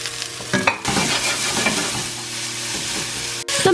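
Onion and green pepper stir-frying with garlic in a hot pan for Hakka noodles and Manchurian, a loud, steady sizzle broken by clattering spatula strokes and a short pause near the end, with a low hum underneath.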